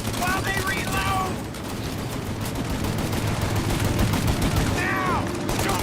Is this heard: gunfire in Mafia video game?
yes